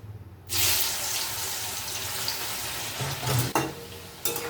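Green plantain chips fry in oil in a wok, giving a loud, steady hiss and sizzle that starts suddenly, with a few brief surges and clatters of stirring near the end.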